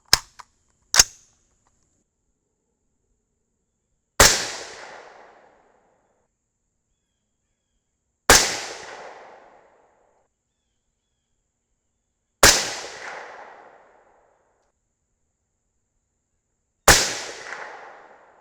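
Four spaced, sharp suppressed shots from a 224 Valkyrie rifle loaded with 90gr Sierra Match King bullets, each a loud crack with a short decaying tail, preceded by a couple of quick handling clicks.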